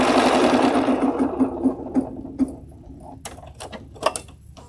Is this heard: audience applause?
no